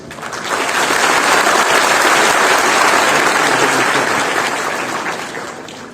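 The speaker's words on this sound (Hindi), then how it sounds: "चाहे तालियों के माध्यम से, चाहे मौखिक रूप से आप लोग अपना समर्थन दे रहे हैं" A large audience applauds at a youth festival, with a dense, even roar of clapping that swells in over the first half-second, holds steady, and fades gently at the end.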